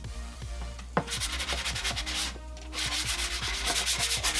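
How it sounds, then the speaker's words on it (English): Steady scratchy rubbing of a sanding block, quick repeated back-and-forth strokes, close and fairly loud, with a brief knock near the start and no talk. "So I have this little sanding block thing"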